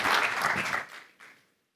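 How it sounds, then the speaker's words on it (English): Audience applause at a health conference, a dense burst of clapping that fades out after about a second, followed by a brief final swell and then silence. "So if you can all give a round of applause"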